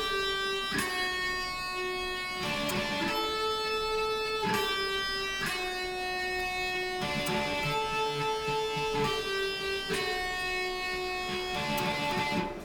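An electric guitar plays a riff, ringing single notes and short repeated phrases with pauses between them, moderately quiet and clear, with no voices.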